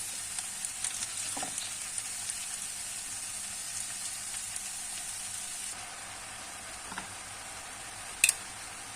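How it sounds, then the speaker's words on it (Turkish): Wild Aegean greens added to softened onions and sautéed in a pan give a faint, steady sizzle, with a few soft clicks of stirring and one sharp tap near the end. "Şimdi otlarımızı ilave edelim. kavurma işlemine devam ediyorum."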